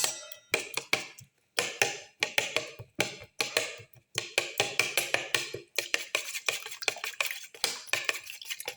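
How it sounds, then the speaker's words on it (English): A utensil clatters rhythmically against a bowl while whisking omelette batter with tomato pieces, quick repeated clinks in short bursts with brief pauses, close and fairly loud. "Thoroughly mix in. And while mixing, crush the tomato pieces further."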